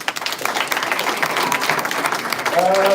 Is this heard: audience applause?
yes